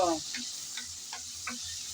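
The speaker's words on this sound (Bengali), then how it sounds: "তেল গরম হয়ে যাওয়ার পর আমি চিংড়িগুলো দিয়ে দিলাম নেড়ে চেড়ে হালকা করে চিংড়িগুলো ভেজে নেব" Shrimp frying in hot oil in a pan, a steady close hiss with a few light ticks from stirring, and a short burst of a voice at the start.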